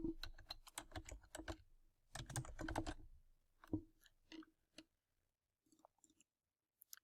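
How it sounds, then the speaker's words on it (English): Someone types on a computer keyboard in quick bursts of close clicking keystrokes, then pauses, with a few scattered taps trailing off into quiet. "now I can type in the text that I need, all capital letters"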